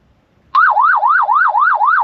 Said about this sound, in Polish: długie powinno sygnał dźwiękowy, alarm dać taki, to powinno zacząć wyć